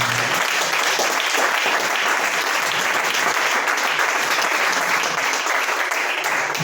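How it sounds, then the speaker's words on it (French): A church congregation in Abidjan applauds the pastor with loud, sustained clapping that fills the room evenly from start to finish. "Je vais vous donner une belle acclamation pour le serviteur."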